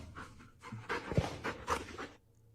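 A dog pants after catching a ball indoors, several quick, close breathy huffs in a steady rhythm before falling quiet.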